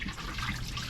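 Moldy liquid is poured out aboard a boat, giving a continuous close splashing and gurgling of water that runs steadily for about a second.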